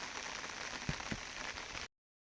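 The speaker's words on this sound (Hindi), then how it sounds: "बारिश की आवाज़ देखो कैसे आ रही है" Steady rain falling outside a house in a hilly village with green fields, a dense even hiss lasting about two seconds with a couple of soft drip thuds, heard from indoors and without talk.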